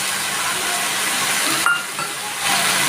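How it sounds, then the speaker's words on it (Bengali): Potatoes go into a hot pan with shrimp and Malabar spinach, giving a steady close sizzle and hiss that dips briefly and then swells again, with no talking. "এবার আলুগুলো দিয়ে দিচ্ছি।"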